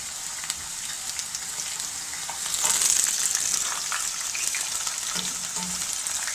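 Dried red chillies and curry leaves fry in hot oil for tamarind rice, a continuous bright sizzling hiss that swells louder midway and keeps crackling steadily.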